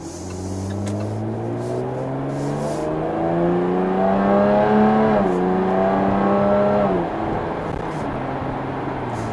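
A 2017 Jaguar F-Type S engine revs hard while the car is driving, its pitch climbing steadily through a gear, easing briefly at a shift and then pulling again, loud and close from inside the car.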